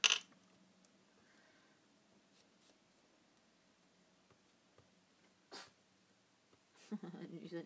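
A pet gives a single short sneeze indoors at a quiet crafting table, a brief distinct burst between soft rustling and handling noises.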